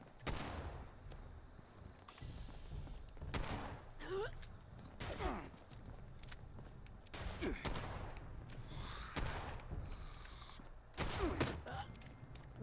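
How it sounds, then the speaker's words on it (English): Shotgun fire in the Fallout 76 video game: several loud, irregular blasts with crackling echoes over a low game-ambience rumble, and a voice talks faintly between shots. "They have a shotgun."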